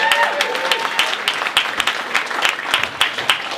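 An audience claps and cheers in a comedy club, with steady applause filling the room and sharp individual claps standing out near the front, continuous for a few seconds.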